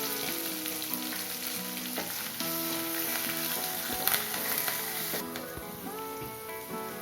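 Curry leaves with salt sauté in hot oil in a pan for coconut rice, a close, steady, dense sizzle and crackle running the whole time with faint stirring clinks and no talk.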